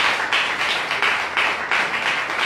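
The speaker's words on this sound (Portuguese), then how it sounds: "que a igreja possa saudá-lo com uma forte salva de palmas" A church congregation gives a strong round of applause, dense rhythmic clapping that swells in pulses and holds steady, with no voices over it.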